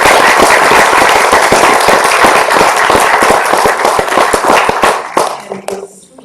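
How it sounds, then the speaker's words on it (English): An audience gives a round of applause after a NASA technology talk, dense, loud clapping from many hands that holds steady and then thins and fades out in the last second. "Round of applause, please."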